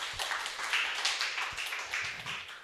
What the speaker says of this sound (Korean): 여러분들께서는 박수로 맞아주시기 바랍니다